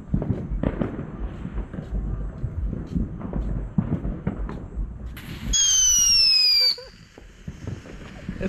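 Leftover Fourth of July fireworks going off outdoors: a burst of crackles and pops, then a sustained high whistling squeal for about a second, with people talking around it.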